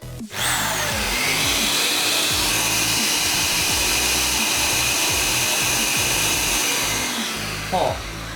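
A power tool on a drill stand with a dust-collection board whirs loudly and continuously with a harsh, whooshing rush of wind noise, starting abruptly and running steadily before winding down slightly.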